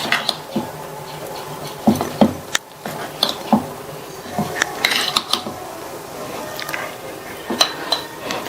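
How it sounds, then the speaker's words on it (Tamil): Ground batter mixed with maida being whisked in a bowl, with irregular clinks and scrapes of a utensil against the bowl and soft wet stirring sounds, close and moderately loud. "இந்த மாவை நல்லா கட்டி இல்லாம கரைச்சுக்கலாம்"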